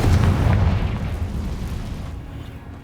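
Bombarda and Confringo spells explode in the Hogwarts Legacy video game, a heavy booming blast right at the start that rumbles and slowly fades over a few seconds.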